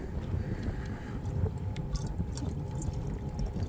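Household bleach splashed from a jug into six gallons of stored emergency drinking water aboard a sailboat: a steady close liquid pour and splash with no talking.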